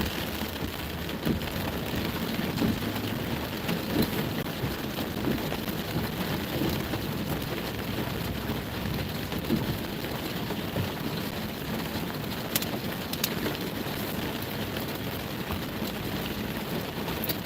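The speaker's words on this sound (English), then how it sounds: "Driving through the rain in Arizona." Steady rain drums on a vehicle driving through Arizona, a dense, constant wash of patter with no talk, holding the same level throughout.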